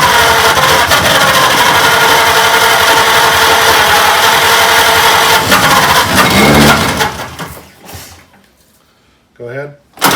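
Engine of a 1926 Oakland antique car, left unstarted for 75 years, running loud and rough with the choke held shut, then sputtering and dying out, followed by a brief voice.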